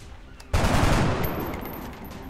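Gunfire in XCOM: Enemy Unknown, a sudden loud burst of shots after a brief quiet start, then a sustained rattling wash that slowly fades.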